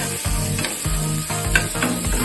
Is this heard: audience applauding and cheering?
no